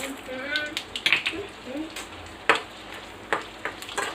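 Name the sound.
tempering seeds sizzling in hot oil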